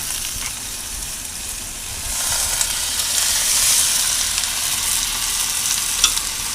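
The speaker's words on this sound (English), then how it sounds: "Here's that sizzle." Garlic sizzles in a pan on an outdoor grill, a steady close hiss of frying that swells slightly in the middle and carries on alone without talk.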